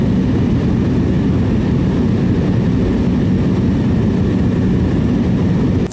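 A Cessna 208 Caravan turboprop in flight between Jacobina and Salvador, heard from inside the cabin as a loud, steady engine and propeller drone with a constant high whine, cutting off abruptly at the end.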